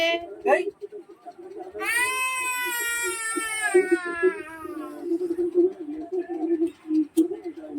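A pet cat gives one long, drawn-out meow up close, with a shorter call just before it. A person talks around the meows.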